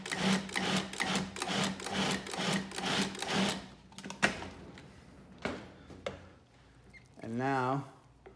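A blender pulses parsley leaves into an oil- and salt-free baba ghanouj in a few short, rough whirring bursts, close by, and then falls quiet as a voice speaks briefly.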